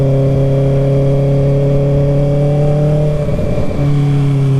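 A 2024 Kawasaki ZX6R 636 motorcycle engine holds a loud, steady mechanical tone, then dips briefly as if shifting before resuming, heard close with no talking.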